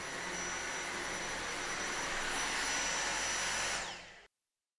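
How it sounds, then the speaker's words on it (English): A Dyson V6 cordless handstick vacuum cleaner runs with a steady, high-pitched motor whine up close, then powers down and cuts off abruptly near the end. "Dyson V6 vacuums quickly and easily convert to a handheld, with Dyson engineered tools for all-round cleaning."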